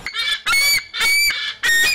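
Geese at the Ilagan nature sanctuary in Isabela, honking loudly and close by in four strong nasal calls spaced about half a second apart, with no talk over them.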